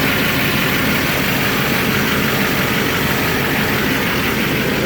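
A pickup truck with its stock catalytic converter running steadily, a loud, constant low engine drone with broad rushing noise and no change in pitch, heard alone without voices.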